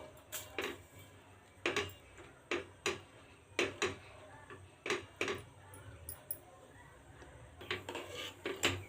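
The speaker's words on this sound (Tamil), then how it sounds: "நம்ம கிளறிக்கிட்டே இருக்கணும்" Semolina cooking in milk in a pan is stirred with a spoon, giving irregular sharp taps and scrapes against the pan over a quiet background, faint and close with no speech.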